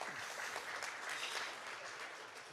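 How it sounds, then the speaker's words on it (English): An audience at a Hera anniversary event claps after a presentation, a faint, distant wash of steady applause lasting a couple of seconds. "Applause."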